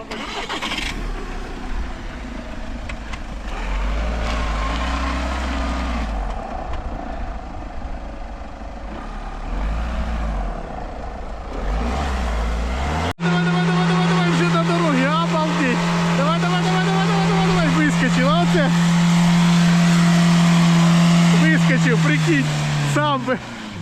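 A Volkswagen car stuck in a field rut revs hard while it rocks back and forth. The engine drones loudly and steadily and climbs in pitch, with voices talking over it throughout.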